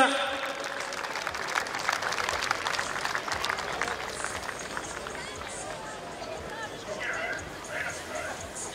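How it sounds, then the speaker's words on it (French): Crowd at a BMX race applauding and cheering for a young rider, a steady mass of clapping and noise beneath a French announcer talking over it throughout. "on peut l'applaudir encore très très fort ce pilote"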